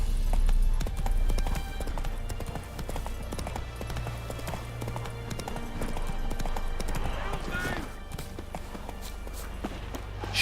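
Roach, a horse in The Witcher 3, gallops with steady rapid hoofbeats throughout, close and loud over a low rumbling game soundtrack, with a voice talking at times above the hooves.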